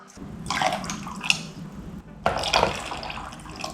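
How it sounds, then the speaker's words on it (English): Boiling water splashes and gurgles in two bursts, a short pour followed by a pause and another longer pour, while rendering beef fat into tallow; no one speaks. "Now we need 2 cups of boiling water."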